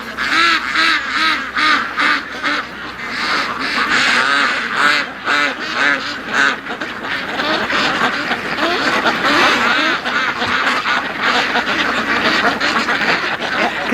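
A flock of ducks quacks loudly and continuously at close range beside a lake, dense overlapping calls with honking geese mixed in.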